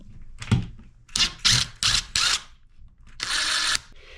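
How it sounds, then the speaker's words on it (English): Power drill backing two screws out of a bathroom vanity light electrical box, several short close whirring bursts with pauses between, ending in one longer sustained run. "So I'm going to have to remove these two screws and rotate."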